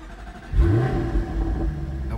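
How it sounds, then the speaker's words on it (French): Jaguar F-Type engine cranking and catching, a short starter whir followed by a deep rumbling rev that rises and settles into a steady low idle. "La voiture démarre."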